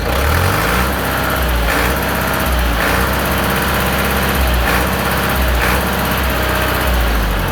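Ford farm tractor engine revving close by, a loud, continuous droning roar with slight surges in pitch and throttle across the whole stretch.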